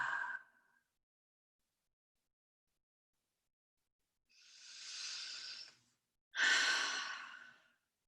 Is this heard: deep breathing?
yes